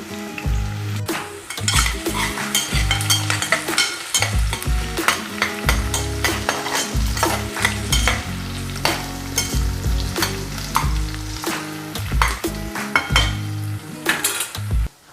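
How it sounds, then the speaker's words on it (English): Onions sizzle steadily in a pan for a North Indian cabbage sabzi, under frequent scraping stirs and clinks of a utensil against the cookware. "so while the onions are frying"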